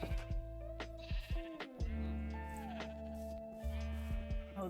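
Sheep bleat in the game Minecraft, several short bleats layered over steady background music, with a few brief clicks and game sounds around them.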